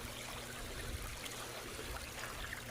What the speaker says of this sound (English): All along this bank right here is artesian springs. This just happens to be the biggest one